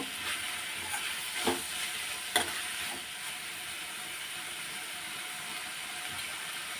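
Tomato masala fries quietly in oil, a soft continuous sizzle with a few sharp clicks and scrapes from stirring, low in level.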